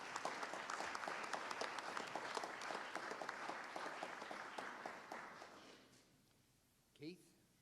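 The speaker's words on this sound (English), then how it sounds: "So please give me a round of applause for Keith." An audience at a town meeting claps for several seconds, dense and steady, then the applause fades out and a voice briefly speaks.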